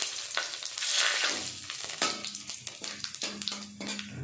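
Dried red chillies, whole cumin seeds and bay leaves sizzle and crackle in hot oil in a pan for a fish curry, a bright steady fry with a few stirring scrapes and spatula clinks close by.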